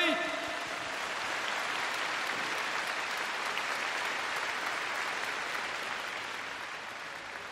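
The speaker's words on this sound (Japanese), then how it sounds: "大きな拍手をお送りください" Broad, steady applause from an arena crowd at a women's V.League volleyball all-star event, sustained for the whole stretch and fading slightly at the end, with faint voices mixed in at the start.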